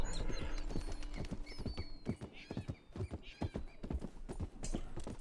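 Horse hooves clip-clop in a steady galloping rhythm while riding in Red Dead Redemption 2, close and clear, with an occasional neigh breaking through.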